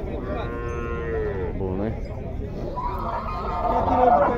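At a cattle fair in Tabira, Pernambuco, a young bull lets out loud, drawn-out moos close by, rising and falling over crowd chatter while someone speaks nearby.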